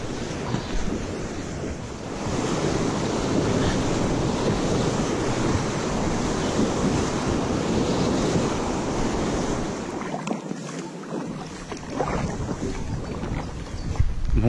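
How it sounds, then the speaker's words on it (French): Fast current and rapids on the Loire rush steadily around a kayak, a broad continuous wash of water with wind buffeting the microphone, loud and close throughout. "aujourd'hui il y a quand même beaucoup plus de courant, beaucoup plus d'eau et plus de rapide"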